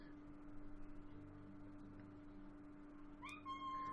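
A pet cat named Miss Kitty meows faintly indoors, a single short call near the end over a low steady background hum.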